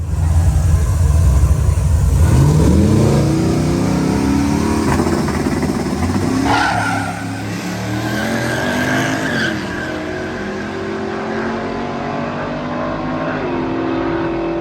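A Mazda RX7 makes a drag racing pass, its engine revving loud and close with a tire squeal early on. The roar holds steady, then eases slightly midway and keeps droning, with no voices.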